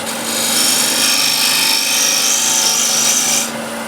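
Steady scraping of wood with a hand tool while shaping a round wooden plate, a continuous rasping rub lasting several seconds before easing off near the end.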